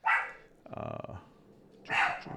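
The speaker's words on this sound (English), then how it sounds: "My dogs are going crazy." Dogs bark indoors in two short, sharp bursts separated by a rougher, lower growl, moderately loud with no talking.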